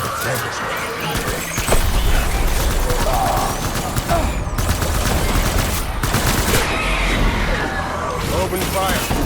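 Heavy gunfire in Death Stranding rattles continuously in dense automatic bursts with loud cracks and crashes, a sustained, close barrage throughout.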